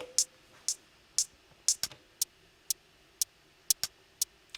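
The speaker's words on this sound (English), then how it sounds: "another hi-hat sound is being played" A crisp, short electronic hi-hat from an Elektron Digitakt drum machine ticks in a steady pattern, about ten hits at slightly uneven spacing, dry and close with nothing else playing.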